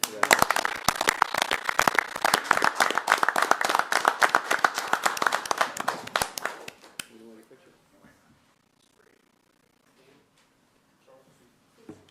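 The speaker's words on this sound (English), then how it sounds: "just like to give them a round of applause" A council meeting crowd claps in a sustained round of applause for a newly sworn police officer, with dense close hand-claps for about seven seconds before they stop abruptly. After that a few people speak quietly in the room.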